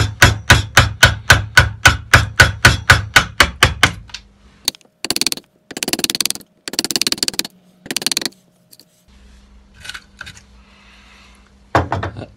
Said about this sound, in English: tap away. And you'll see, because of the angle of the chisel, it makes the waste timber go upwards.